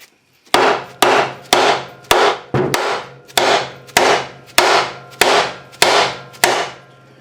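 Eleven heavy, evenly spaced hammer blows ring out at close range, each strike followed by a short metallic decay, as a glued-on part with thick RTV sealant is beaten off a Vortec 350 engine.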